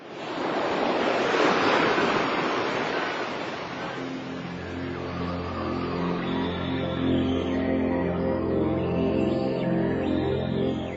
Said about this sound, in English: The tide was coming in.